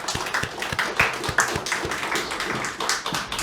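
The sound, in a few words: congregation applause in church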